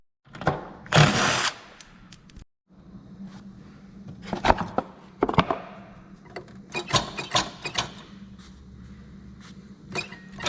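Power drill removing screws from the deck of a Lawnboy 21-inch self-propelled mower during a belt replacement, sounding as a loud opening burst followed by several short whirring bursts and clicks, close by, with no talk.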